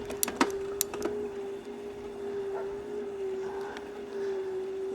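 The motor of a Heybike Hybrid e-bike strains on a hill climb with a steady, close, humming whine and grinding. A few clicks and knocks come near the start.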